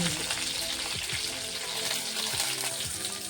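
Garlic fries in oil with mustard seeds for a bitter gourd stir-fry, making a close, dense and steady sizzle with faint crackles throughout.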